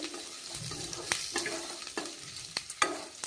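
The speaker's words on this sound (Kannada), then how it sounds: "ಉದ್ದಿನಬೇಳೆ ಬೇಳೆ ಫ್ರೈ ಆಗವಲ್ಲ ಈರುಳ್ಳಿ ಹಾಕಿದ್ದೀನಿ ಎರಡು ಈರುಳ್ಳಿ" Onions and urad dal fry and sizzle in a pan, with a steady crackle broken by repeated scraping stirs of the spatula, close up and with no talking.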